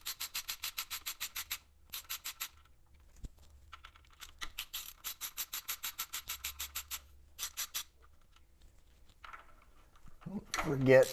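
Ratchet wrench removing the 3/8-inch oil pump housing bolts on a 1971 Buick GSX, with rapid bursts of clicking in several runs separated by short pauses, close and crisp, ending with a louder clunk.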